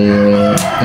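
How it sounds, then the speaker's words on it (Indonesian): A short burst of chicken noise, clucking with a crow-like call, loud and close in a brief, busy fragment. "Itu suara ayam berisik"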